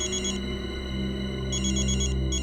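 An electronic phone ringtone trills repeatedly, loud and close, in a steady warbling pattern with no voices.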